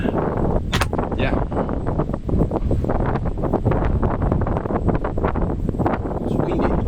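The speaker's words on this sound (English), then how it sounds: "It's windy." Gusty outdoor wind buffets the microphone in a continuous rough roar, broken by sharp clicks and thumps, while people talk briefly in the background.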